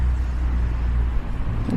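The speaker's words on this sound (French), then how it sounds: "Désolée pour la voiture." A car passes outside, a low steady rumble that swells and fades over a couple of seconds, heard from indoors.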